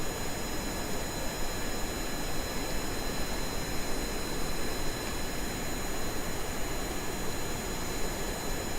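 Jet aircraft engine roaring at full throttle on a takeoff run in Kerbal Space Program, a steady loud broadband rush with high whining tones held constant throughout, no voices.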